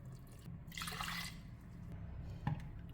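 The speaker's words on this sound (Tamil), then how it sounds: "தண்ணி ஊற்ற போகிறேன்." Water is poured into a cooking pot that already holds coconut milk for a home-cooked rice lunch dish; a short splashing pour rises and fades, followed later by a small clink over a low kitchen hum.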